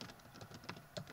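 Keys tapping on a computer keyboard, a run of light, irregular clicks at close range with a couple of sharper strokes, no voice over it.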